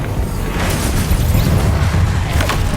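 Incendio fire spell cast in the Hogwarts Legacy video game, a loud sustained roaring burst with booming low rumble and crackle running continuously throughout.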